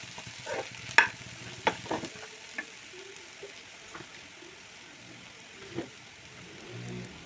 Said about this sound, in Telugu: కొంచెం బాగా వేగనివ్వాలి.